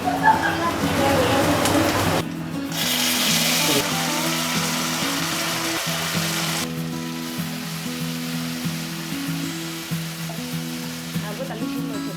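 Washed dried manathakkali berries fry in hot oil, a loud continuous sizzle and crackle with stirring scrapes, the hiss flaring sharply for a few seconds before settling to a steadier fry.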